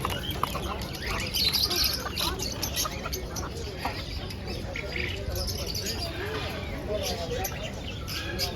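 Small caged birds chirp and tweet in a bustling old souq bird market, the busy cheeping blended with crowd noise and faint background voices.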